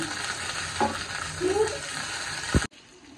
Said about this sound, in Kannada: ಈರುಳ್ಳಿನೂ ಹಾಕೋಣ ಎಲ್ಲ ಹಾಕ್ಬಿಟ್ಟು ಒಂದು ಒಗ್ಗರಣೆ ಬಾಳ್ಸೋಣ